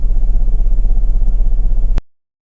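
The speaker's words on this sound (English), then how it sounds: "all the cylinders on the right bank appear to be misfiring" A 2010 Mercedes GLK 350 engine idling with its right-bank cylinders misfiring gives a close, steady, rough pulsing chug that cuts off abruptly after about two seconds.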